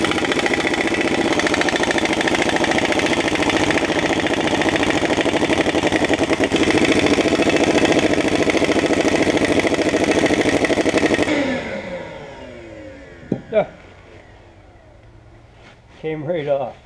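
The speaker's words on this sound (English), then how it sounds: "I got two of the bolts out with a 1/2-inch impact wrench, but it would not take the rest of them out." A 3/4-inch impact wrench removes stubborn bolts on a Ford F750 haul truck, a loud, steady mechanical whir running for about eleven seconds before cutting off, followed by a few short clanks and quiet shop noise.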